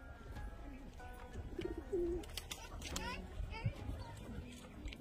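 A Pakistani-type pigeon being handled in Bangladesh coos softly a few times, low and faint beneath steady background noise, with voices and children audible around it.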